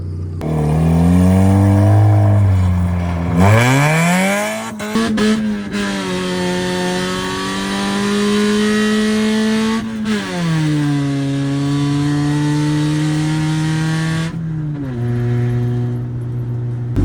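A warmed-up DirtX CRX race car engine runs loudly and close during a test drive, with rising and falling revs, a brief drop around a gear change and sustained droning between accelerations.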